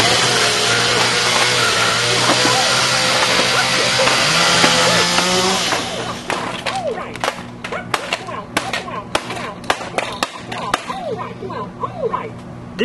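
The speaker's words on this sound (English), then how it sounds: "This is all the chainsaw does, by the way." A chainsaw runs loudly and steadily for several seconds, then stops and gives way to scattered knocks and clattering.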